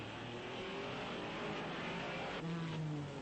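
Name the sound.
Porsche race car at 1961 Belgian Grand Prix, Spa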